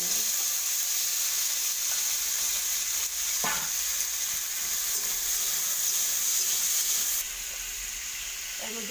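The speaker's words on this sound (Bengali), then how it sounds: "আলুগুলোকে আমি 1 মিনিট ধরে ভাজা করে নেব।" Potatoes fry in a pan with a loud, unbroken sizzle, stirred now and then, and a brief scrape partway through; no one speaks.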